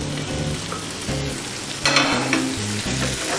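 Onions and blanched, chopped tomatoes frying in a pan, a loud close sizzle that jumps louder midway as the tomatoes go in, with rhythmic stirring scrapes and no voices.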